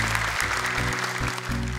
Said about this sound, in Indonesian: Boleh tepuk tangan sekali lagi untuk mereka bertiga.